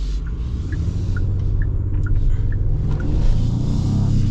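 A 2026 Genesis GV70 Sport Prestige 3.5T drives in Sport Plus mode, a steady low engine and road rumble filling the cabin with a faint ticking above it.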